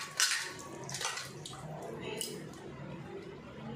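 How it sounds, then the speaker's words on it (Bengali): Hands are rinsed under running water in a home kitchen during biryani preparation. The splashing is faint and steady, with a few brighter splashes, and a voice speaks over it. "হাতটা ধুয়ে নিই।"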